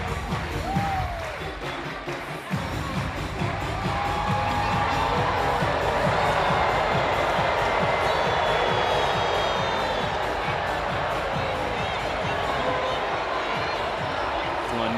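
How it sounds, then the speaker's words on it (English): Gymnastics arena crowd at a Utah meet booing a judges' score, a loud sustained roar of many voices filling the space from start to finish. "And lots of boos, Connor."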